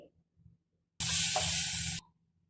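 Fish frying in olive oil in a home kitchen pan gives a sudden, loud one-second burst of bright sizzling hiss, heard alone, that stops abruptly.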